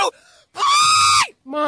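A boy screams loudly in a shrill, drawn-out burst during a heated family Monopoly argument, with short vocal sounds just before and after.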